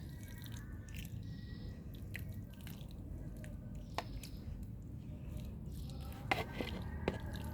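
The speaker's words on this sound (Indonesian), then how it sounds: "Lanjut saya siram sedikit." Water trickles and drips as garden plants are watered beside a wall, faint soft patters and occasional drips over a low steady background, close by.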